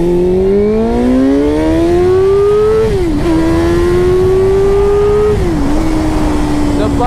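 A Suzuki GSX-R 600 motorcycle accelerating at highway speed, its engine tone climbing steadily through the gears with two brief dips at upshifts, loud and close throughout with wind rush.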